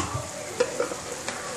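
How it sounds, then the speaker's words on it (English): Shrimp go into a hot pot in a home kitchen, giving a soft, steady sizzle with a few light utensil clinks and stirring sounds nearby. "I'm going to add my shrimp"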